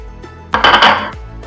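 A spoon scrapes and knocks against a metal pan while potato pieces are stirred into a vegan drumstick curry: one short burst of metallic clatter with a faint ring, set between quiet moments.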